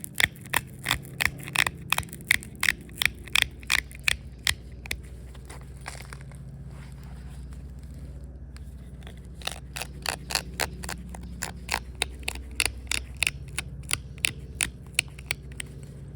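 Stone Elko point being pressure flaked, a long series of sharp, crisp clicks and snaps in close succession, pausing midway before another rapid run of flakes, all close and fairly loud with no talking.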